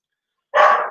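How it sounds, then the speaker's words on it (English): A single sharp dog bark rings out close and loud, a short burst with no talking over it. "Right, dogs are barking."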